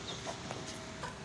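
A hen clucks softly on a rooftop, giving a few short calls against steady background noise.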